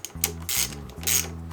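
A ratchet wrench tightens a 14 mm nut during a racing ignition install on a dirt bike engine, two quick bursts of rapid clicking, close and crisp, with no talk.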